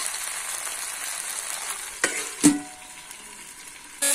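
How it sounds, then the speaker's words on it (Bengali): Young jackfruit and shrimp sauté in a pan with a dense, continuous sizzle, a couple of sharp stirring clanks near the middle, and a louder burst of frying at the end. "ইঁচড়টা কষানো হয়ে গেছে"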